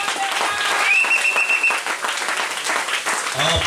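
Applause in a church service, a congregation clapping steadily throughout as an offering of praise, with a few faint cheers and voices mixed in under the clapping.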